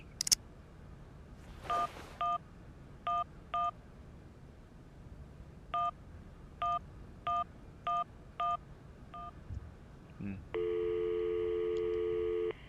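In the video game Syberia, a telephone number is dialed as a string of short touch-tone beeps in uneven rhythm. A steady, continuous phone tone then sounds alone at the end.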